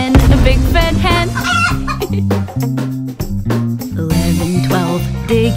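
A hen clucking in a children's counting nursery rhyme song, cartoon-style clucks layered over a steady musical backing with melody, continuous and fairly loud throughout.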